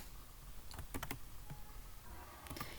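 Keys clatter on a computer keyboard in short irregular bursts of typing, fairly quiet against a steady background hum, with no speech.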